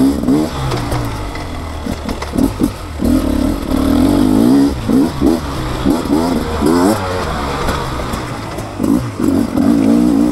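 A 2024 Beta 300 RR two-stroke dirt bike engine revs up and down in loud repeated bursts, close by, with a rattling mechanical clatter between throttle blips.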